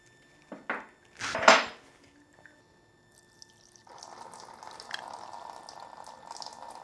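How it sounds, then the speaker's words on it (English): Fuel pours from a port on the fuel rail of a Porsche 911 Carrera 3.2L: a few sharp metallic clinks, then a steady, close splashing flow that runs on continuously. "The fuel's coming out clean."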